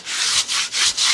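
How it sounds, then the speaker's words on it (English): A wooden 2x4 shelf board is scuffed by hand, giving four quick, even rasping strokes in a steady back-and-forth rhythm, close and alone. "Just kind of scuff it real quick, just kind of rough it up"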